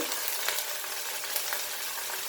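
Cumin powder and other masala spices go into a hot frying pan for Goan dry channa, producing a steady, close sizzle with a few faint crackles and no talking.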